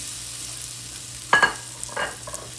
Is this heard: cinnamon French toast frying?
yes